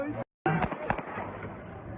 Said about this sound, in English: This viral cell phone video captured what sounds like gunshots